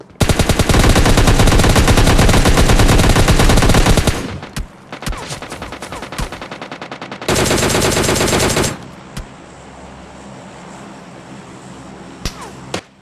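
Loud, rapid automatic gunfire in PUBG Mobile Lite, with a long sustained burst, a few scattered single shots, then a second burst, heard close and alone with no talk.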